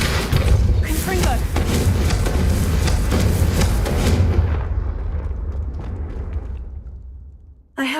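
A Confringo spell explosion in a video game, a loud rumbling blast with crackling debris that fades away over several seconds before a sudden new hit at the end.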